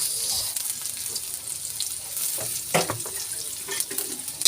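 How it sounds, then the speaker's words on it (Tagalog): Onion sautéing in a pan for pechay with misua makes a soft, continuous sizzle with stirring scrapes and a few clinks, recorded close and fairly quiet. "ilagay na natin ang sibuyas."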